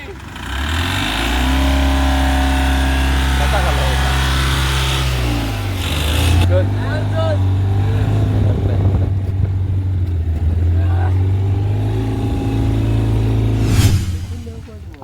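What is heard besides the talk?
tempo van engine driving off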